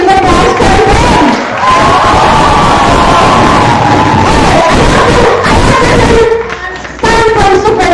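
A school debate crowd cheers and shouts for the winning team, loud and close, with whoops and bellows and a brief dip near the end.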